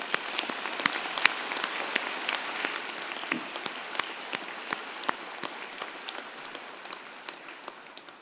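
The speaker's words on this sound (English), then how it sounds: "join me and the platform party in thanking them with a vigorous round of applause" A convocation audience gives sustained applause, steady dense clapping with scattered sharper claps standing out, continuing without letup.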